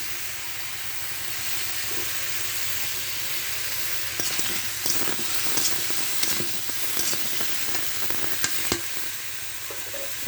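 Mango pieces fry with salt over a low flame for a pickle, giving a steady, even sizzle throughout, with a scatter of sharp spatula scrapes and clicks joining in over the second half.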